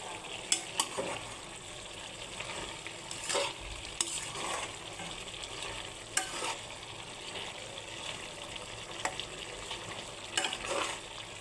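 Vegetables and potatoes for a chepa shutki curry being stirred in a pan. A low sizzle sits under repeated spatula scrapes and clinks that come every second or two, with no one speaking.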